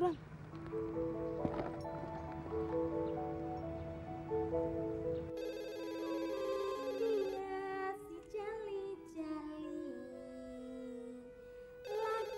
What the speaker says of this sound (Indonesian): Itu telepon berbunyi.